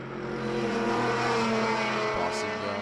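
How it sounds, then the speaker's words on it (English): A Mercedes touring race car laps the circuit during the Baltic Touring Car Championship endurance finals in Riga, its engine a loud, steady drone close by, with a voice faintly underneath. "Impressive Mercedes lapping the Nanason by Tarzania Racing car."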